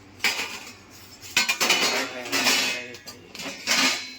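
A metal lid lifted off a pot of finished biryani, heard as a few close clanks and scraping metal knocks in separate bursts.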